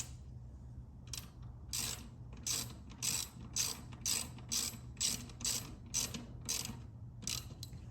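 Ratchet wrench clicking in steady repeated bursts while loosening the headlight mount bolt on a 2016 Harley-Davidson with a 7-inch LED headlight, close and fairly quiet, with pauses between strokes and no talking.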